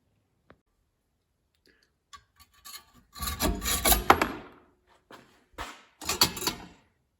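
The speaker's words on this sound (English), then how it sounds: "I had to file the threads down just a little bit so that it would fit in here." A hand file rasps in short bursts against the threads of a 3/4 inch metal pipe, with a few light clicks and knocks between the strokes, close and fairly quiet.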